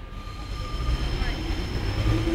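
Train at a railway station near a level crossing in Lincoln, a steady low rumble and rolling rail noise with a faint sustained tone above, continuous and fairly close throughout.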